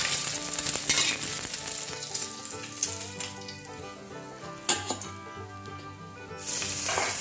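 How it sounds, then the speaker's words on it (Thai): An egg fries in hot oil for a Thai crispy fried egg served with pork kaprao, giving a steady, close sizzle with scattered sharp pops that swells louder toward the end. "อันดับแรกเลยเราก็มาเตรียมไข่ดาวค่ะ"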